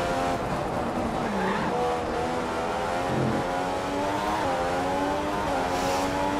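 An F1 car in the F1 2015 video game at Monaco locks its tyres under hard braking, giving a steady close engine drone with brief squealing skids and shifting revs.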